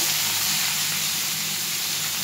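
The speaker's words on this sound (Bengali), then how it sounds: "এবারে এইগুলো আমি একসাথে একটু ভেজে নেব।" Boiled potatoes fry with a tempering of mustard seeds and chili in a pan for a cauliflower curry, producing a strong, even hiss that holds steady and close without a break.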